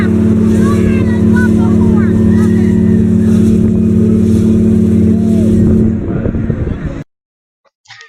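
A motorboat engine drones steadily under excited voices for about six seconds, then the sound breaks up and cuts to near silence.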